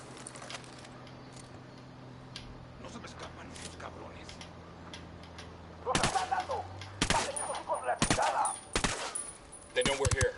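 Tactical-shooter gunfire in Ghost Recon Wildlands, several sharp close rifle shots cracking out in the second half over low ambient drones and faint game sounds, with quiet talk mixed in.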